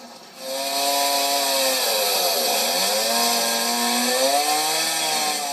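A chainsaw cuts a replacement log for a log cabin restoration on Lake St. Croix, starting up and holding a loud, close, steady whine that dips in pitch as the chain bites into the wood, then recovers.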